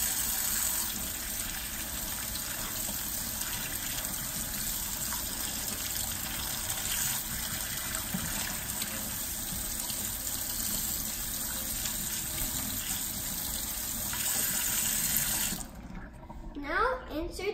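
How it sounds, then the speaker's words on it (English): Cold water runs steadily from a kitchen faucet to rinse a Brita water filter, a continuous broadband rush that stays loud and even for most of the clip before cutting off near the end. "Now we are supposed to run it with cold water for approximately 15"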